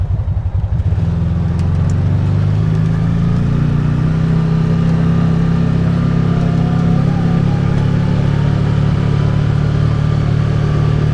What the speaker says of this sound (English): the engine is very smooth, being a V-twin